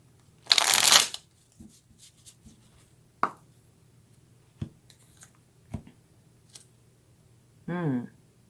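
Tarot cards being shuffled and drawn: a short, crisp riffle close up at the start, then scattered light taps and slides of cards being laid down, with a brief voiced sound near the end.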